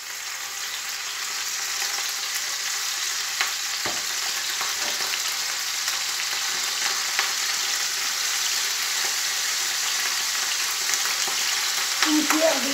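Chicken pieces frying in a pan for chicken rice, a dense steady sizzle with one sharp knock early on and faint handling noises near the end, no speech.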